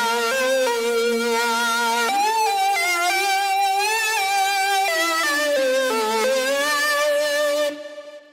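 A harsh, aggressive distorted synth lead plays a gliding, bending melody line that doubles the guitar in the outro of a song, loud and continuous for several seconds before cutting off abruptly near the end.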